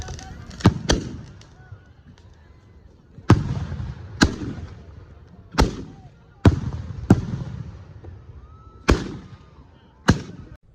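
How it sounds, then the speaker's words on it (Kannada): Firecrackers burst at the Chamanahalli village festival, a string of sharp loud bangs spaced unevenly over several seconds, each echoing off briefly, with crowd noise between them. "ಪಟಾಕಿ ಎಲ್ಲ ಹೊಡಿತಾರೆ"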